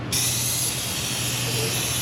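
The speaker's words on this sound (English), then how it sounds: "Give that a nice good spray down, because we need to check this for leak action" Cleaner hisses in a steady, close spray aimed at the oily underside of an engine, a continuous jet of mist lasting about two seconds.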